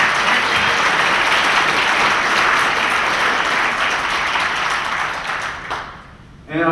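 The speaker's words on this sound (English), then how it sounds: "give a round of applause for all of you here today" A seated audience at a talk event gives a loud, dense round of applause that continues steadily for several seconds, then thins out and stops, with a brief sound just at the end.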